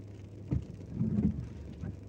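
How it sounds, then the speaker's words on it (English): Rain falls steadily on a car while riding inside it, a low muffled wash with a few louder soft thumps, no talking. "it's a rainy Wednesday"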